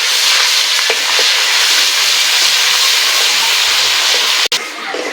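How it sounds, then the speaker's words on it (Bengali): Ginger and garlic paste frying in a pan, a loud dense continuous sizzle and hiss close up that cuts out briefly near the end, with no talking. "আদা রসুন একটু ভেজে নেব।"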